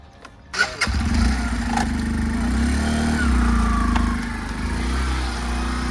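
A motorcycle engine starts abruptly and settles into a steady, loud idle-to-running drone for a test ride, close by with no talk over it.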